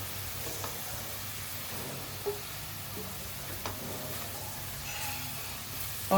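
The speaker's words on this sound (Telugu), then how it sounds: "ఆయిల్లోనే ఫ్రై అవ్వాలండి మసాలా అంతా కూడా పచ్చివాసం పోయే వరకు" Chilli powder masala frying in oil for a small fish curry, a soft continuous sizzle with faint stirring sounds and a few light clicks, fairly quiet and without talk.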